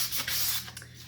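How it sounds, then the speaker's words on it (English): Sandpaper rubs by hand across a painted wooden sign in close, soft, rasping strokes that rise and fall in a quick rhythm. "I'm going to give this one a good sand so that you guys can see the looks that you can get with sanding your sign"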